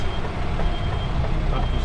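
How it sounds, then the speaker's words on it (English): Truck reversing at night to hook up to a trailer, with a steady reversing beep over loud, constant engine rumble close by. "Just going to be hooking up to this trailer."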